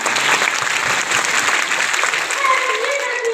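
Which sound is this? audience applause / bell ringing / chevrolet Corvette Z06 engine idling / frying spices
audience applause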